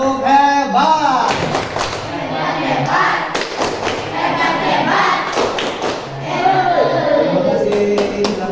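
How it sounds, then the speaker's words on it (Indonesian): A school class performs the 'tepuk hebat' clap chant together, with rhythmic rounds of group hand claps and thumps mixed with chanting voices, loud and close throughout. "tepuk hebat dong, tepuk hebat"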